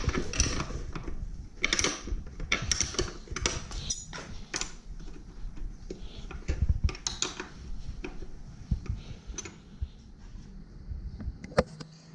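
A spanner works bolts loose on the backrest of a Yamaha Vmax motorcycle, giving close metallic clicks, scrapes and creaks in irregular bursts with faint background noise.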